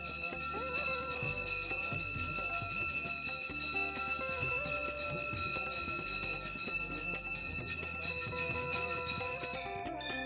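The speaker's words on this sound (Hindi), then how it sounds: "घंटी की ध्वनि मन के विकारों को शांत करती है।" Bright metallic temple bells ring continuously during Ganga aarti at Mukhwa, layered and sustained with shimmering overtones, loud and steady before fading slightly at the end.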